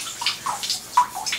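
Water runs and splashes in a bathtub while dishes are washed there because the kitchen sink is clogged, with soft irregular sloshing and gurgling close by at fairly low volume.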